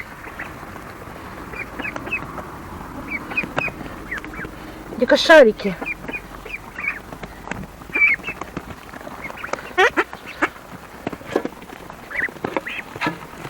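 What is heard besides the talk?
ducks quacking and smacking while eating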